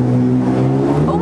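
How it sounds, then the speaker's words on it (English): A loud car engine drones steadily and close by on a street in Chisinau, Moldova, over a brief stretch of city noise with a voice mixed in. "always loud cars everywhere."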